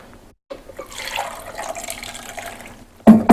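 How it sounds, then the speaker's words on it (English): Water is poured into a thick homemade drink, a close, steady splashing trickle that starts after a brief silence and runs for a few seconds before a louder clatter at the end. "I like to add some water to whatever I put in there"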